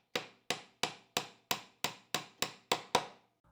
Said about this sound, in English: I'll repeat this process on all corners, adjusting the square and then nailing.